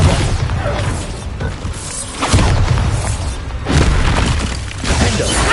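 Bombarda blasting spell explosions in Hogwarts Legacy, loud booming blasts and crashing debris that swell and fall in waves amid dense game action.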